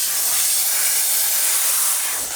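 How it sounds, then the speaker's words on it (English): A Dupray Tosca semi-pro steam cleaner releases a loud, continuous, close-up hiss of steam while cleaning Alcantara and leather in a BMW F10 M5, with no talking. "this is a Dupre Tosca, is the steamer that I'm using, which is a little semi-pro type"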